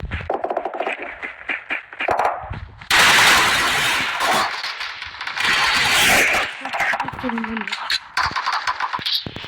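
Automatic gunfire during a firefight in the mobile game PUBG Mobile, with dense rattling bursts and loud sustained volleys, while someone talks excitedly over the shooting.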